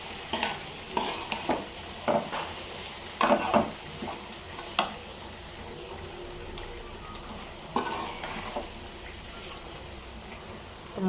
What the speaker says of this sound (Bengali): চালটা কষাইতেছি